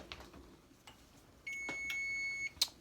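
A steady electronic beep tone sounds for about a second, followed by a short sharp blip, over faint background clatter.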